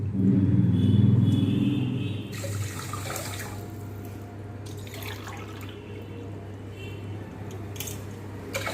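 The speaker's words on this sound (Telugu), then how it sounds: "గ్లాసు నూకే మూడు గ్లాసులు వాటర్ వేస్తున్నానండి" Three glasses of water pour into a pan, a loud gushing splash at first that settles into a steadier running flow with a low background rumble.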